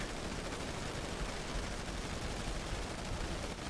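Gunfire in a zombie video game, heard as a continuous, fairly faint wash of rapid shots blending into noise, with no voices.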